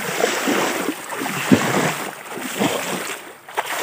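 Water is churned and splashed in a small canal to drive fish, making continuous sloshing and rough watery surges close by, with brief thumps and no talking.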